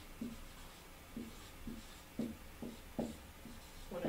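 Pen or marker writing on paper, a series of soft, short scratchy strokes in an irregular rhythm, close and quiet with no talking.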